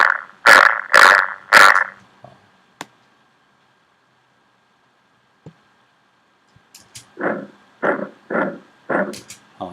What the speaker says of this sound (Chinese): 可能这个感觉这个狗吠声会比较好一点。